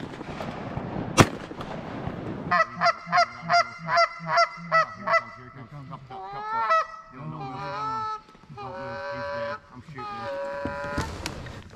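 Geese honk loudly in a rapid series of harsh calls during a goose hunt, while sharp shotgun blasts crack near the start and end.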